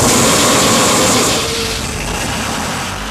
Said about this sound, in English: It's at this time that the engine can be started.